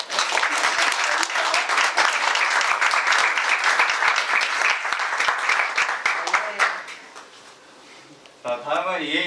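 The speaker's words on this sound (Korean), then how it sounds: "박수 부탁드립니다." An audience claps warmly at a tooling program completion ceremony as a best instructor award is presented. The dense, lively applause lasts several seconds, then thins and fades before a voice briefly starts speaking.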